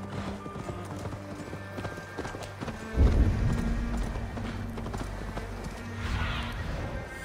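A horse clip-clops and gallops in the video game Assassin's Creed Valhalla, its hoofbeats rhythmic under game ambience, with a heavy thud as the run begins and a brief whinny-like swell later.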